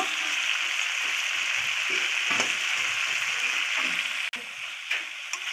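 Curry with fried spices and fresh garden coriander leaves being stirred in a pan, giving a steady close sizzle with soft scraping stirs and one brief clack near the end.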